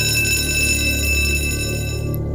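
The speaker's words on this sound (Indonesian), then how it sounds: "bel masuk sudah berbunyi" A school bell rings for the start of class in one loud, continuous electric tone that holds steady before cutting off near the end.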